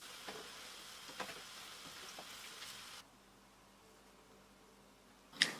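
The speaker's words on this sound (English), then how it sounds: "here I'm just frying my second and last batch of plantains in the same way as the previous batch" Plantains fry in a pan of oil with a soft, steady sizzle and occasional crackles that fade to quiet near-silence, ending in a brief sharp clink.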